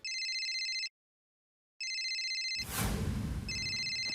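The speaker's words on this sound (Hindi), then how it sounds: "दया का फोन।" An electronic telephone rings in two steady bursts with a pause between, then a rustling clatter before the ringing starts again.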